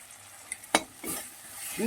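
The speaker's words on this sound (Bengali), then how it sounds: "সামান্য জল দিয়ে এক মিনিটের মতন কষিয়ে নেব" Ground spice masala of cumin, turmeric and chilli powder cooks in a pan with a splash of water, a quick clack and scrape of a spoon over soft sizzling.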